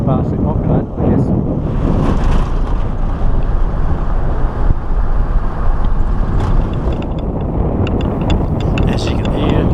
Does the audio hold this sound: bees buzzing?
no